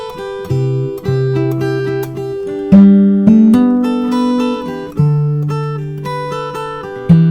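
Fingerstyle acoustic guitar plays the chorus of a song with no percussion, in clear plucked notes, ringing chords and a steady bass line, close and alone with no talking.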